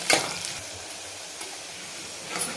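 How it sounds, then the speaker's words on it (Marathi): Chopped onion frying in hot oil in a pan while being stirred for a village-style dry mutton dish, with a steady soft sizzle punctuated by a few sharp scraping clicks of the spoon, close and alone. "याच्यामध्ये आपण कांदा टाकून घेऊ। आणि कांदा चांगला सोनेरी कलरवर आपल्याला परतून घ्यायचा याला।"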